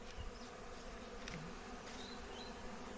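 Honey bees fly around beehives, a steady dense buzzing hum filling the whole clip at moderate distance, with a few individual insects passing closer and no talking.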